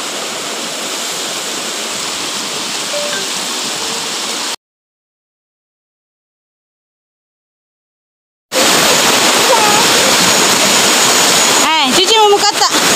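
A waterfall roars as a steady, dense rush close by, cut off by a few seconds of silence before resuming louder, with faint voices and splashing near the end.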